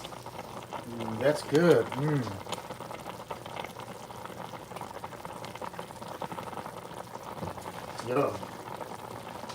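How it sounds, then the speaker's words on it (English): A short rib stir fry soup boils in a pot with a low, steady bubbling simmer, while someone speaks briefly over it. "And let it kind of boil here."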